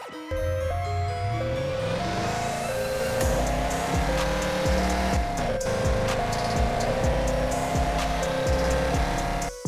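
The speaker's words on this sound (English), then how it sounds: "This is an open-world driving simulator where you will become a real policeman with the task of patrolling the streets." A car in the mobile police driving game Police Sim 2022 revs loudly through repeated gear shifts, its engine pitch climbing and dropping with brief tire squeals, continuous and close, with no talk.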